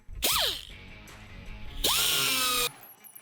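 A power drill bores a hole in the bed of a 1998–2014 Ford F150 pickup, two loud whirring bursts that spin up and run briefly, separated by a pause.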